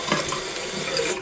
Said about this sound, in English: So you turn on the water.